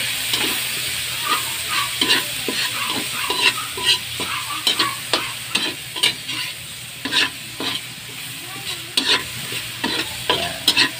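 Onions and tomatoes saute for pork binagoongan, a steady sizzle broken by frequent rhythmic scrapes and clanks of a spatula stirring in the pan, loud and close with no voices.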